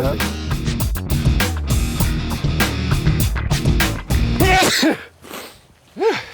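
A short burst of a sneeze amid throat noises and other vocal sounds, followed by a couple of quick, high-pitched breathy squeaks.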